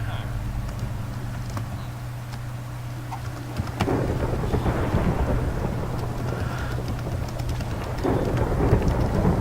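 A thunderstorm with lightning strikes in a tornado survival video game brings steady loud rain hiss under a low rumble, with thunder swelling heavier about midway and again near the end.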